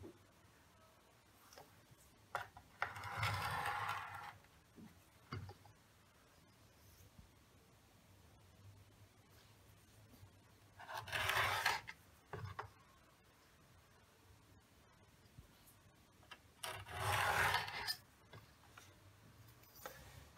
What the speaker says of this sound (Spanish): el cuchillo tiene que quedar bien vertical para que el corte nos quede totalmente vertical